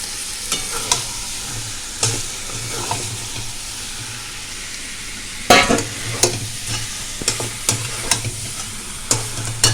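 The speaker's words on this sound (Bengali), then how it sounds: "এবার আমি এই ভেজে রাখা আলুগুলো দিয়ে দিচ্ছি" Fried potatoes tipped into a spiced pan for aloo dum and stirred, a soft steady sizzle under scattered spatula scrapes, with one louder clattering burst midway and quick strokes after it.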